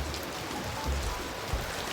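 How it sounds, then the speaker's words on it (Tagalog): Heavy rain at a port in Boracay makes a dense, steady wash of noise close by, continuous through the short stretch with a few low thumps and no talk. "Umuulan. Na tayong dalang payong. Ang lakas ng ulan."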